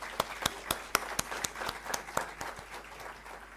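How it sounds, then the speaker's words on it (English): A small group claps in brisk, uneven bursts at a university convocation ceremony, thinning out and fading toward the end, fairly quiet and distant. "Round of applause for School of Economics."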